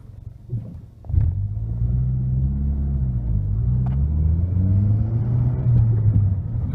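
A 2008 Mazdaspeed3 engine drones low and steady from inside the car while driving, with a brief surge early on and a constant rumbling hum that wavers slightly with speed changes.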